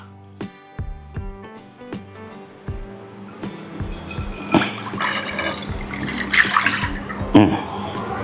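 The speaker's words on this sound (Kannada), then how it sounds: "ನೀರು ಹಾಕ್ಬಿಡೋಣ." Water being poured into a pot in a home kitchen to cook rice flour for sweet kadubu, a splashing, gurgling fill that grows louder and busier over several seconds after a few hard knocks and clatters.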